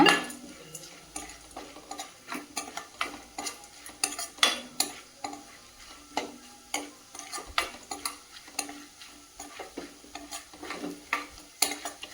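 Roasted gram being stirred in a hot pan for kara pori, with a spoon scraping and tapping in steady repeated strokes over a faint sizzle, close and clear.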